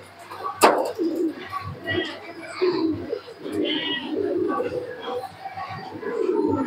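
Pigeons bred for high-flying tournaments coo in soft, repeated throaty rolls close by, with someone talking over and between the calls.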